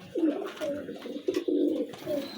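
Soft, low coos of Pirojpuri pigeons repeat in short phrases, close by, with faint background noise.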